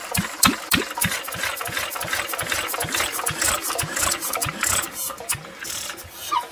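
A Lister D stationary engine running for the first time in about 30 years, chugging in a fast, even rhythm of low thumps with a clattery mechanical rattle, loud and close.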